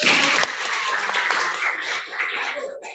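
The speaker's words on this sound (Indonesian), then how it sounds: "tepuk tangan dulu" Students clapping together in a classroom lesson, a fairly loud burst of applause that starts strong and gradually thins and fades over a few seconds, without speech.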